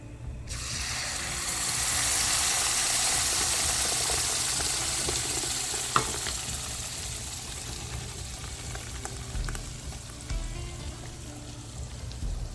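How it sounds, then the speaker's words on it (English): Garam masala and spices frying in a pan with spinach puree for dhaba-style palak paneer, giving a steady close sizzle that swells early and then settles, with a brief utensil clink partway through. "Simply I'm gonna fry all these masala. Spinach puree, the one we made."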